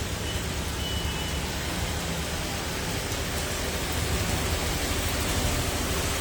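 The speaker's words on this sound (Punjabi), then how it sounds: "ਕਾਫੀ ਤੇਜ਼ ਮੀਂਹ ਹੈ" Heavy rain pouring down in Tapa Mandi, a dense, steady roar of water filling every moment without a break.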